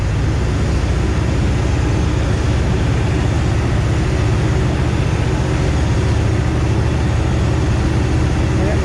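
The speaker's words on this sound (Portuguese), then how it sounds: "Esse som do diesel, V8 turbo diesel, é gostoso também" A HUMVEE M998 with a V8 turbo diesel runs steadily, a loud, constant low rumble with no pauses, heard close up from on board while driving.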